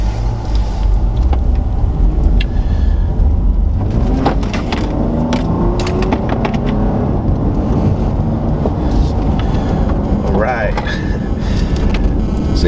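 A 2013 Dodge Charger V6 under way with paddle shifting gives a steady engine and road rumble inside the cabin, with wind noise throughout and someone talking over it.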